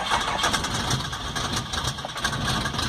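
A Datsun 720 diesel engine cranking on a cold start after a blizzard, a steady loud mechanical churn with rapid rhythmic pulses running throughout, close to the microphone and alone.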